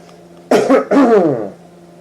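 Two quick, harsh coughs close together, loud and near, on a quiet background hum.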